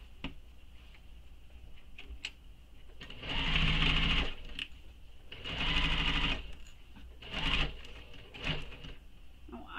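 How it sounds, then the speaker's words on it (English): A sewing machine stitches a seam on a Melisande shoulder bag in three sustained runs, each about a second or more long, with quiet pauses and small clicks between them. It sounds close and fairly loud. "sew this with the seam allowance given in the pattern. So you'll just sew all the way"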